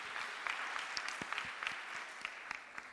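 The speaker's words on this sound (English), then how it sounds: "Please clap hands for him again." Audience applause at a university science and agriculture postgraduate research day, steady clapping from a room of listeners after a research presentation, moderately loud with a few sharper individual claps standing out.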